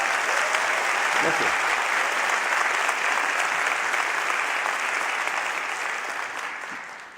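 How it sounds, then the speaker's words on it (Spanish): Audience applause at a TED talk, a loud sustained burst of clapping from a large crowd that tapers off slowly toward the end, with a brief spoken word from the stage near the start. "Yo también le aplaudiría a Vicente Espinel"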